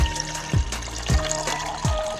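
Water poured into a cold pot for a stove fuel burn test, a close, steady splashing pour with a few brief gurgling surges.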